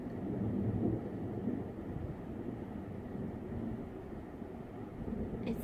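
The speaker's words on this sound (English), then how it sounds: "It's thundering now. The rainstorms are moving through." Rumbling thunder from a passing rainstorm, a steady low roar that swells slightly near the start and persists throughout with no voices.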